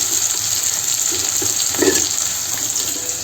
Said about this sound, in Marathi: जिरं छान तडतडलं का ह्यात कांदा घालूया, बारीक चिरलेला.